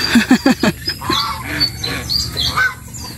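Geese honk loudly up close, a quick burst of repeated honks followed by scattered squawks and calls.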